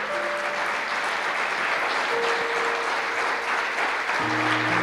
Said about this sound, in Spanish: Si le vas a dar un aplauso fuerte al Señor,